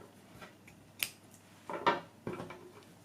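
Scissors snip off yarn at the end of a crochet flower, with a few quiet, sharp clicks and a brief crisp snip spread over a few seconds, close by and alone.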